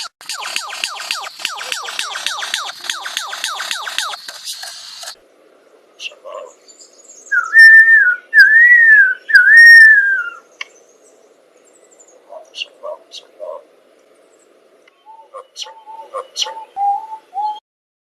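A lyrebird runs through mimicked sounds: rapid chattering calls, then loud rising whistles like a siren, followed by scattered clicks and short chirps.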